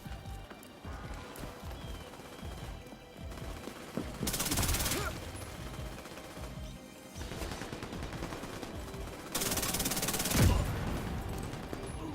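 A turret firing in the shooter game Warframe, with rapid bursts of automatic gunfire and crashing hits. Two loud, wide blasts of fire punctuate the busy, layered game noise.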